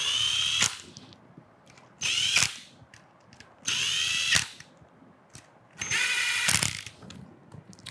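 Power drill bursts driving the mounting screws of a Nova D MKO lock home during installation, four loud whirring runs of about a second each separated by short pauses, close and with no talk.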